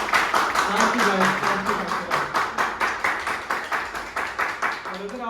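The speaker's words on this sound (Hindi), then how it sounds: "तब तक जोरदार तालियां इन दोनों स्टार्स के लिए" An audience claps for two stars at the close of an actor's podcast, steady rhythmic clapping throughout with someone briefly speaking thanks over it.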